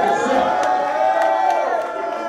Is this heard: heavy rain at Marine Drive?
no